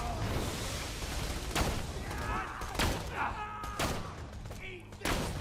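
Gunfire in a first-person shooter game, several sharp shots and thuds spread irregularly through the clip, moderately loud, with a voice talking over parts of it.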